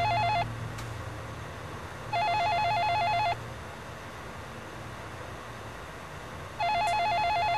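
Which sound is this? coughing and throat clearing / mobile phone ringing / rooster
mobile phone ringing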